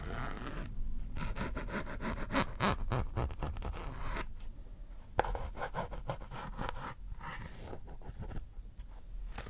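Crisp, close scraping and scratching on the feathers of ASMR angel wings, delivered in quick repeated strokes with brief pauses, soft but detailed with no talking.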